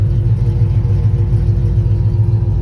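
A Chevrolet Caprice engine running after starting straight up, with a loud fuel pump, giving a close, steady low rumble at idle throughout.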